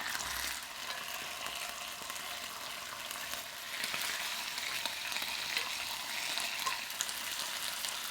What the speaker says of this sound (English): add the pork back in the pan